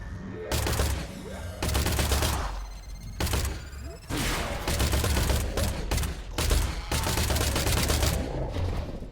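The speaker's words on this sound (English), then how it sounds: "Weird when I'm shooting them on the stairs." Rapid bursts of video game gunfire from Industria, loud and close, coming in several volleys separated by short pauses, with faint speech in places.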